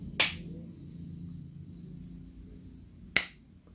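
Two sharp, isolated hand claps from a children's violin class rhythm exercise, one near the start and one about three seconds later, crisp and close against a quiet room.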